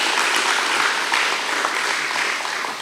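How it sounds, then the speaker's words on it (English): Applause from the audience at a school awards ceremony for IGCSE and A-level results, a steady wash of many hands clapping at even loudness with no voices. "Let's applaud these efforts, ladies and gentlemen."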